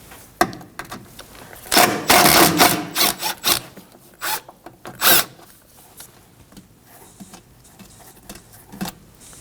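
Hand tools working loose 8mm bolts on the dual radiator and condenser fan assembly of a 2015-2024 Ford Edge 2.0L, with scattered ratcheting clicks and scraping bursts, close and fairly loud against quiet gaps.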